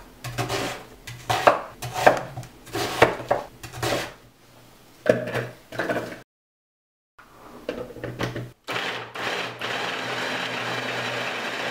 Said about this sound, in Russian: Я буду измельчать в измельчителе.